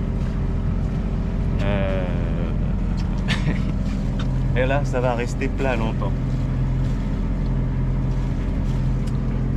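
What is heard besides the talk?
sailboat motoring under engine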